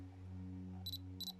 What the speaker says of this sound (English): That noise is the camera telling me that that particular focus point is focused and is